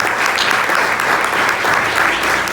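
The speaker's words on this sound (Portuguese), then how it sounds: "Aplauda ao Senhor." A church congregation claps continuously during a Saturday worship service, a dense, even wash of applause with no talking over it.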